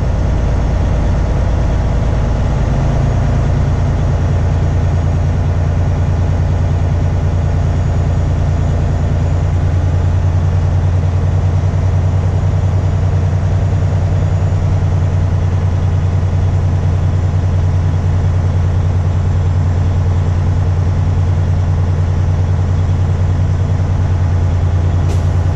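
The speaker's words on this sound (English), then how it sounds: "Listening for the air dryer to spit again." A truck's diesel engine idles steadily and loudly during a pretrip inspection, a low constant rumble with a faint sharp hiss near the end as the air dryer purges.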